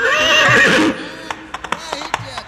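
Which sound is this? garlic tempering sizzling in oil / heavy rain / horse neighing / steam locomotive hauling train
horse neighing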